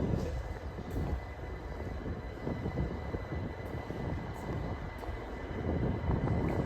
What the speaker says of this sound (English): the train's coming, right?